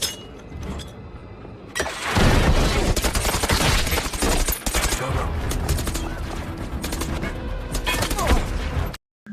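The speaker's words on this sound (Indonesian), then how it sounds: "Saat pertempuran berlangsung, mereka berhasil melumpuhkan Dickton lalu hendak membawa Dickton pergi. Namun sayangnya saat itu Samuel terkena tembakan." Rapid bursts of gunfire and clanking impacts fill a battle scene in a dubbed action film about an assassin hired to kill a mafia boss, loud and dense for most of the clip with brief quieter moments at the start and end.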